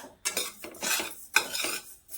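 Goda masala spices dry-roasting in a pan, heard as a series of scraping, clattering stirring strokes with short pauses between them, close and fairly loud with no voices.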